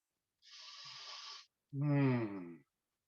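Two heavy breaths, a long airy inhale followed by a louder, voiced exhale like a sigh, close to the mic.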